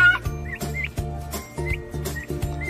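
Several young turkeys peep and chirp in short repeated calls over a rhythmic background beat.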